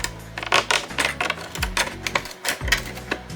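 Scissors snip around the edge of a large holiday treat board, a series of crisp, close clicking cuts in uneven rhythm, roughly a dozen strokes with brief pauses between them.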